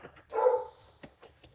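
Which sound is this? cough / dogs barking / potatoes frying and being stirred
dogs barking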